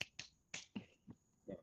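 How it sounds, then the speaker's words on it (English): Scattered applause from a small audience at a trading seminar on market orders: a few sharp, separate claps spread over under two seconds, quiet and somewhat distant, with no talking. "Clap for yourself."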